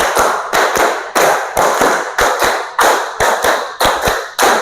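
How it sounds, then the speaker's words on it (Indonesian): A group claps in sharp, rhythmic bursts, repeated patterns of quick claps separated by brief pauses, loud and close. "Tepuk 5. Tepuk 5 3 kali."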